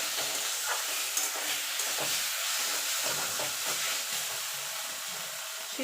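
Taro greens cooking with a hilsa fish head sizzle steadily in a pan while being stirred, a constant close frying hiss with soft scraping strokes over it and no voices.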